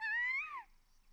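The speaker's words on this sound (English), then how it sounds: "Oh, it was just a black cat." A black cat meows once in an anime scene, a single clear rising-then-falling meow lasting about half a second, close and fairly quiet, followed by near silence.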